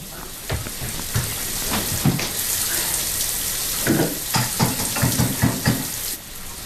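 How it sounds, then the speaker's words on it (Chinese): Water runs from a broken faucet in a hospital setting, a steady hiss of flow broken by irregular splashing and clattering bursts as someone handles it nearby. "我那水龙头有点坏了啊"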